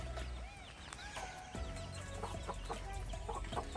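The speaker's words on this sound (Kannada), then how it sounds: "ಇಲ್ಲಿ ಕೋಳಿ ಮೊಟ್ಟೆ ಮೇಲೆ ಕೂತ್ಕೊಂಡಿದ್ದಷ್ಟೇ" A desi village hen sits on her eggs and gives soft, repeated clucks among other chickens' calls close by, with steady farmyard background noise throughout.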